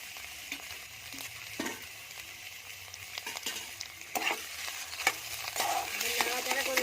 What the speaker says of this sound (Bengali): নাড়াচাড়া করে দিচ্ছি